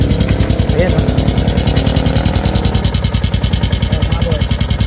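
A Yamaha Sniper 150 motorcycle engine with its engine cover removed runs at a steady idle with a rapid, loud mechanical rattling from a noisy internal fault, heard close up over a continuous rhythmic clatter.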